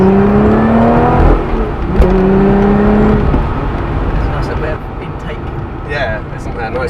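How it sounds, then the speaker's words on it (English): A Lotus Evora S sports car accelerates hard with a loud, rising engine and intake roar from inside the cabin, one gear change partway through, while people in the car talk over it. "isn't that a nice bit of intake noise?"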